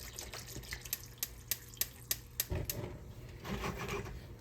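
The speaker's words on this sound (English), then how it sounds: "Pour my pineapple juice in here." Pineapple juice pours into a cooking pot, a soft liquid splash rising about halfway through after a run of quiet ticking taps, all low and close in a home kitchen.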